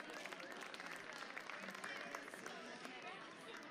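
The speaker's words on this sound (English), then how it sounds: "Let's give them a round of applause." A faint, thin round of clapping from a small crowd at a VEX IQ robotics league event, quiet and distant, blended with scattered chatter and room noise.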